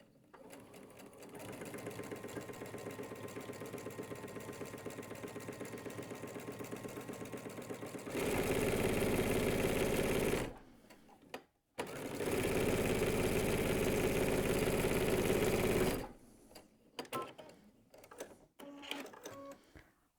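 Sewing machine running a straight stitch of 2.5 length in red thread, topstitching a quarter inch from a fabric fold for a car caddy; steady motor whir in two long bursts with short pauses between.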